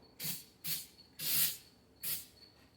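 Aerosol texture coating hisses from a spray can onto an 8-inch subwoofer box, in four short separate bursts with brief pauses between them.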